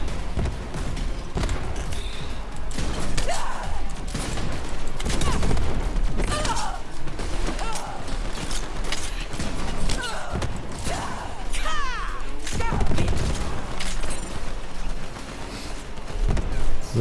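Sniper rifle fire during Borderlands 3 gameplay, sharp shots bursting out repeatedly over a dense, loud mix of game effects and background noise throughout.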